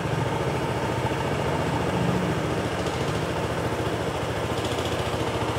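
A Honda Stylo 160 scooter idles steadily just after a cold start, a continuous, even engine hum with a fine rhythmic pulse close to the microphone and no talking.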